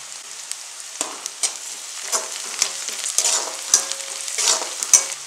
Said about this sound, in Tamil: இது எல்லாத்தையும் நல்லா வதக்கிடணும்.